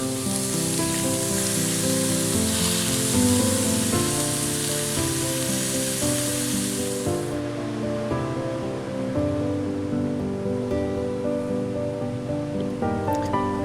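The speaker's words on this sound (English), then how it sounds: "Crumble and brown your beef" Two pounds of ground beef browning in a Dutch oven, giving a loud continuous sizzle and crackle with bright hiss that drops away partway through, leaving a quieter simmering fry.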